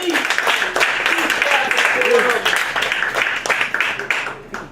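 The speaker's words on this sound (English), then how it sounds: "Big round of applause for KB, everybody" A comedy club crowd applauds and whoops for a comedian taking the stage, clapping rising and then thinning out, with voices and cheers mixed into the noise.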